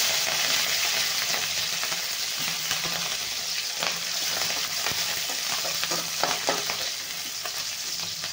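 Garlic and green chilies sizzle steadily in very hot oil for a village-style garlic fenugreek dish, with a continuous loud crackling hiss and occasional stirring scrapes, no talking.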